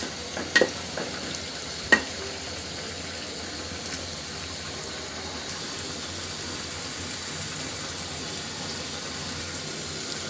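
Malabar spinach stems frying in a pan, a low steady sizzle with a couple of sharp spoon knocks early on as they are stirred, then mostly even frying noise.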